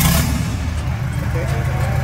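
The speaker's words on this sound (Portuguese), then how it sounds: "Por que estão partindo esse carro sem escapamento aqui?" A Toyota SW4 engine running with its exhaust removed, a loud, rough low rumble that stays steady and close throughout, with voices talking over it.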